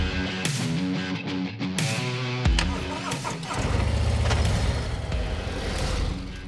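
A borrowed motorbike engine at a petrol station in Singapore, starting up and revving with a rough mid-pitched drone that shifts and settles into a steadier running tone, close to the listener.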